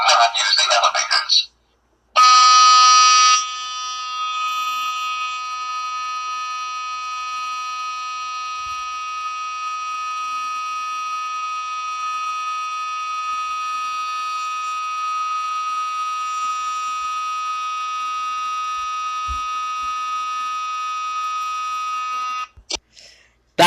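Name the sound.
fire alarm ringing in a building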